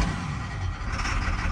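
A Ford F-650 boom truck engine labors while failing to rev up, a brief rough, throaty drone with uneven rumbling, fairly close and steady with no voices.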